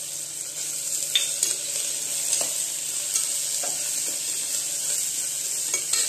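Dried lentil dumplings (sandge) sauté in a pan, a steady soft sizzle broken by light scrapes of a stirring spoon, close and alone with no talk.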